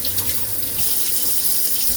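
Water runs steadily from a kitchen tap while something is washed during home cooking, a close, continuous splashing stream into the sink, no voices.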